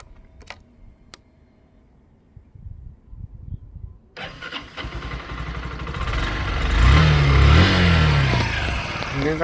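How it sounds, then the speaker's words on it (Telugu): A 2023 Honda Shine motorcycle with about 25,800 km on it sits quiet apart from a few clicks, then its engine starts and settles into a smooth, close running hum that swells with a light rev. "ఇంజన్ కండిషన్ చూడండి, చాలా స్మూత్గా ఉంది."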